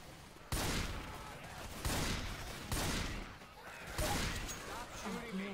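Gunfire in a co-op zombie shooter game comes in four loud, dense bursts of rapid shots. Players' voices can be heard amid the shooting.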